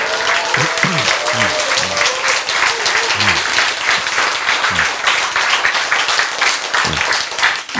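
A large audience claps loudly and continuously, with a voice briefly audible beneath the sustained applause.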